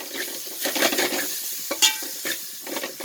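Ginger and garlic sautéing in a pan for a crab curry, a steady soft sizzle with scraping stirs of a spoon against the metal and an occasional clink, heard alone.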